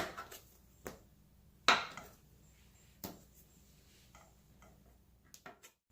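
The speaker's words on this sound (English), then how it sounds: "Cut the dough into 8 pieces." A knife slicing soft pretzel dough into pieces on a board, a handful of quiet, separate taps and cuts spaced about a second apart, close and soft.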